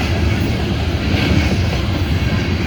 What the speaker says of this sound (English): Most locomotives I've seen on a loaded coal train.